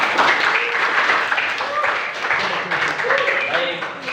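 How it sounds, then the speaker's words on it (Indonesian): A school class claps together in a sustained burst of applause in a classroom, with a teacher's voice speaking over the clapping. "Tepuk tangan untuk kalian semua."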